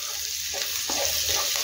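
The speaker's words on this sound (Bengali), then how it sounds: "রসুনটা একটু ভালো করে ভেজে নেব" Garlic sizzles in hot oil and butter in a pan while pasta with vegetables is being made, giving a steady bright hiss with a few soft stirring clicks, close and fairly loud.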